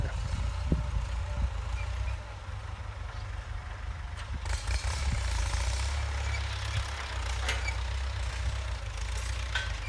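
A heavy Ford 6600 farm tractor engine, pulling a seven-disc plough through overgrown grass, chugs steadily close by, a low rumbling drone that holds for the whole stretch with faint clatter above it.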